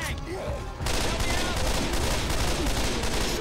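Sustained heavy gunfire as several players shoot at the tank in Left 4 Dead 2, a continuous loud barrage of overlapping shots starting after a brief quieter moment.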